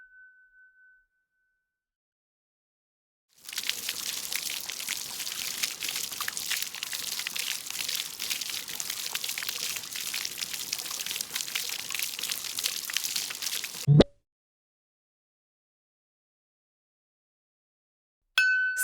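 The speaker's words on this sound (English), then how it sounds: "Splashing water" Water splashes and pours in a steady, bright, continuous rush for about ten seconds, then cuts off abruptly, leaving silence with a faint tone before and a brief sound at the end.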